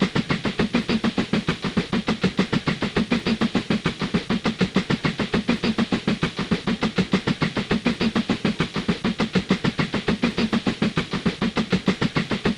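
A train in the railway-building game Mashinky runs steadily with a fast, even rhythmic chugging and clatter, loud and continuous throughout without talk.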